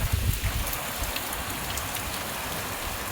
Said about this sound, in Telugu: ఇది వర్షంగా పడుతుంది, వర్షం మాత్రం ఎడతేరగా